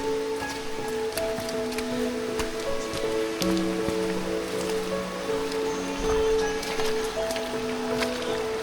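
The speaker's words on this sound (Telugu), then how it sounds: "సౌండ్ వినిపిస్తున్నాం మీకు, వాటర్ ఫ్లో అయ్యే సౌండ్" A forest stream on a trek in Kudremukh runs steadily nearby, a constant broadband rush of flowing water with no pauses and no talking.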